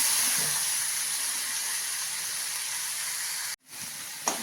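Lentils going into hot ghee in a pan for puran poli give a steady, loud hissing sizzle close by. It cuts off abruptly near the end, and a brief clatter follows.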